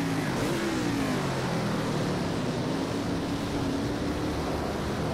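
A NASCAR stock car races on the Sonoma road course in the Project CARS 2 racing game, its V8 engine giving a continuous loud drone with gently shifting pitch and no pauses or talking.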